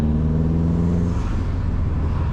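Car accelerating on its first drive after a first start, a steady loud engine drone and road rumble that settles slightly partway through, with no talk.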